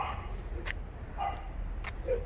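A dog barks a few times at middle distance in short separate yaps over steady background noise, with faint voices nearby.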